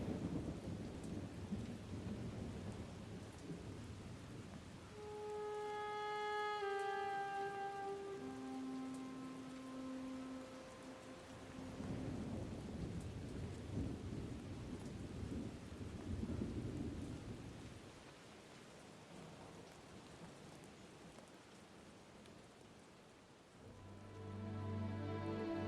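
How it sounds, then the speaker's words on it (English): Steady rain and rolling thunder open the intro, with soft rumbles building and fading while sustained musical tones float above the rainfall. "we're starting with rain sounds."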